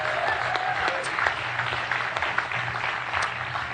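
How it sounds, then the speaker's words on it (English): Live podcast audience applauding in a venue, a continuous, even wash of clapping from a large crowd with scattered individual claps standing out. "Let's have a round of applause for all 300 of them."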